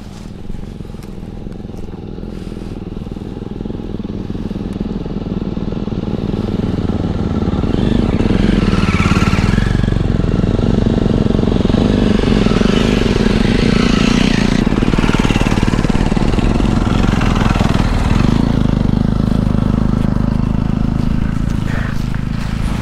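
Motorcycles ride up an extremely steep mountain road between Phangrei and Khangkhui caves, a steady close engine drone with wind buffeting that grows louder partway through and holds, no talk heard.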